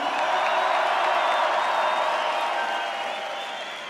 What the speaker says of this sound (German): Einen großen Applaus für Kollege den Boss